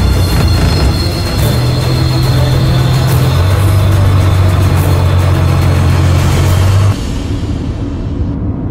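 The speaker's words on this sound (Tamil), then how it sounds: "பேசாம வண்டி எடு" A car engine runs loud and close in a steady low hum with a droning tone. The pitch shifts once midway, then the level drops near the end as the engine settles.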